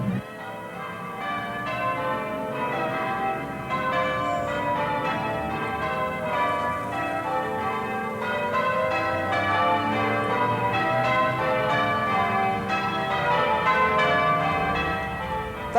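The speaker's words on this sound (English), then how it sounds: "And the bell's lovely, mister." Church bells peal continuously near St Patrick's Park, several bells ringing in an overlapping, rhythmic cascade, full and resonant, with no voices.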